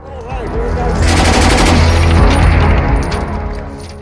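A machine gun firing automatically in a continuous rapid stream, a dense loud rattle of shots that swells in the middle and tapers off toward the end.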